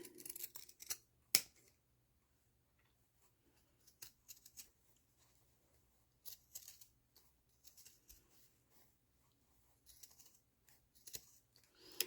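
Quiet snips of scissors cutting card stock in short scattered bursts, a few crisp cuts separated by near silence, close by.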